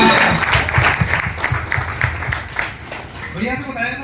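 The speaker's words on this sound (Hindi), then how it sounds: "एक बार जोरदार ताली साथियों के लिए" Loud applause from a seated audience at a product testimony meeting, rhythmic clapping that continues steadily for a few seconds and fades into a voice speaking at the end.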